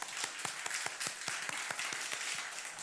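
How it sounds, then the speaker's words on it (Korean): A church congregation applauds during a Sunday sending-off worship service, a steady, fairly faint wash of many hands clapping in a room with distinct individual claps standing out, and no talk over it. "큰 박수."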